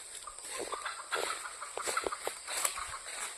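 Chickens cluck in short, scattered bursts nearby, against a faint background hiss.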